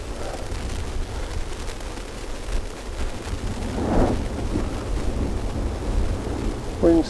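Steady wind buffets the microphone on the coast path of the Lizard peninsula in Cornwall, a constant loud rushing roar with faint surf beneath, no voices.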